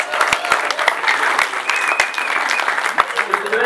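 An audience at a public doctoral thesis defense applauds steadily, a dense, loud clapping from many hands that fills the whole stretch with no pause.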